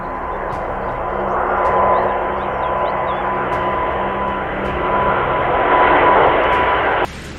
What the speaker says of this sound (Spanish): Este Airbus A350 tiene dificultades para despegar porque solo uno de sus motores está funcionando